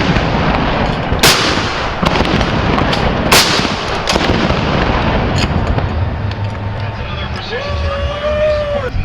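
Cannon blasts in a firing sequence at an Army football game: several sharp, booming reports spaced a second or two apart, ringing out over steady crowd noise, with voices and a brief whistle-like tone near the end.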